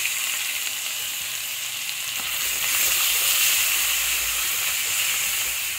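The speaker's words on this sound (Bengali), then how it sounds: "আমি একটা ছোট সাইজের পেঁয়াজ এরকম ঘষে নিয়েছি, সেই পেঁয়াজটাকে এখানে দিয়ে দেবো" Small grated onion hits hot oil with cumin in a pan, giving a loud continuous sizzle and hiss that swells after a couple of seconds as it fries, with no voices.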